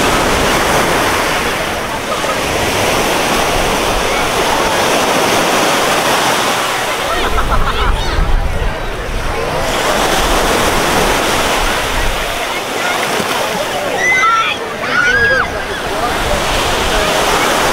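Surf rolls in continuously at Waikiki Beach on Oahu, a loud, steady wash of breaking waves mixed with wind rumble, with faint voices in the background.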